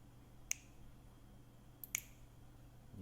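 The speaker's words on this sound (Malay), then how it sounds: "Ni petik jari kiri." Finger snaps on the left stereo channel of a home song recording, two or three crisp, sharp clicks spaced apart over a quiet low hum, no talk.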